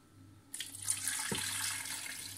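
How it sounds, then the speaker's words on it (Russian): Purified water poured into a cooking pot holding brisket for broth. Quiet at first, then a sudden, steady splashing pour starts and continues, with a brief low knock partway through. "Значит, заливаем очищенной водой."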